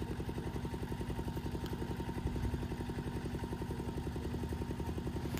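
A power tiller tractor engine runs steadily with a close, rhythmic chugging rumble and clatter. It keeps an even throb throughout, with no voices over it.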